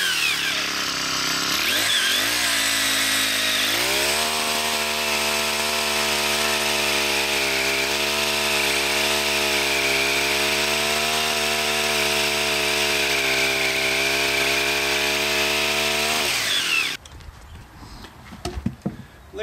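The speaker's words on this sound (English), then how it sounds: "We're gonna start bucking some real size logs with this Poulan Pro 28cc pull saw." Poulan Pro 28cc gas pole saw cutting through large logs, its two-stroke engine revving up then holding a loud steady high whine for about thirteen seconds before cutting out, followed by a few knocks and clatter.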